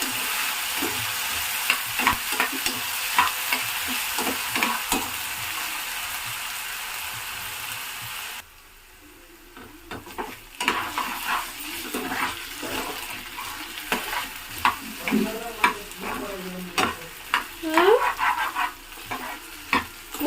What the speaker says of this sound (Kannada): ಇದು ಫ್ರೈ ಆಗಬೇಕಾಗಿದ್ರೆ ಆಲೂಗಡ್ಡೆ ಸ್ವಲ್ಪ ಮೆತ್ತಗಾಗಬೇಕಂದ್ರೆ ಸ್ವಲ್ಪ ಉರಿ ಕಮ್ಮಿ ಇಟ್ಬಿಟ್ಟು ಮಾಡ್ಕೊಳ್ಳಿ